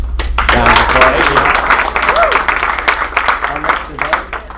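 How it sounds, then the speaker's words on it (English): Clapping from a group at an office team meeting, moderately close and somewhat uneven, with voices and a low hum running underneath the applause throughout. "definite round of applause"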